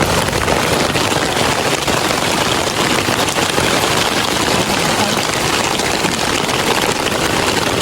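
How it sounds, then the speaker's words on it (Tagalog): Rain falls steadily during an outdoor evening dinner in the countryside, a dense, even hiss of drops on surfaces that carries on without pause. "Inabot na naman po tayo ng ulan."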